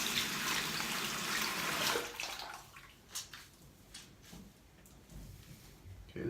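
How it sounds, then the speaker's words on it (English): Tap water runs hard while a cleaning brush for custom sneakers is rinsed. It gives a loud, steady rush for about two seconds, then stops, leaving quiet handling noises and a few soft drips. "my suggestion is run it through some water"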